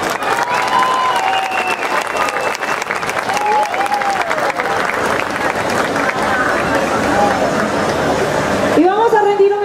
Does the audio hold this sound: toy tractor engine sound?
no